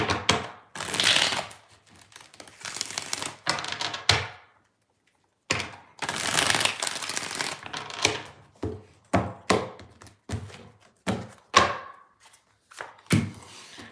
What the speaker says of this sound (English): Two more shuffles here, two more.